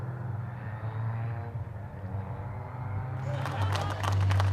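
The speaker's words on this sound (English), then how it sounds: "So huge applause for Ryan Rode" Applause from a crowd at a Silverstone motor racing podium ceremony for the Mini Challenge winner. A broad wash of clapping swells near the end over a low engine-like rumble and distant outdoor noise.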